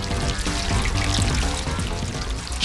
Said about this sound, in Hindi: पाइप से पानी वापस समुद्र की ओर बहने लगता है।